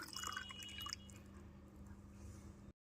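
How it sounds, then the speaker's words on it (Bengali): Water poured into a semolina batter for rice-flour pitha, a soft trickling and dripping close by with a brief louder splash at the start, then a steady quieter flow that cuts off near the end. "তারপরে আবার দিয়ে দিচ্ছি হাফ কাপ পরিমাণ জল"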